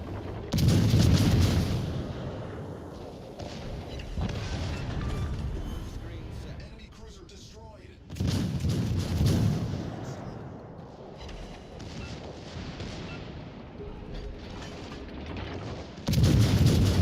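Heavy naval gun salvos in the World of Warships Legends video game, with deep booming volleys at the start, middle and end, and rumbling battle noise and talk in between.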